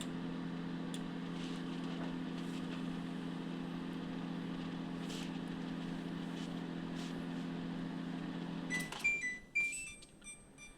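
LG charcoal convection microwave oven running, a steady low electrical hum droning for about nine seconds, then a series of high beeps as it finishes, with no talk.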